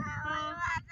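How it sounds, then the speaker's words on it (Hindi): A cat gives a single drawn-out, wavering meow, close and fairly loud, lasting under a second, with a voice nearby. "मियाँ भाई बिल्ली रो रहा है।"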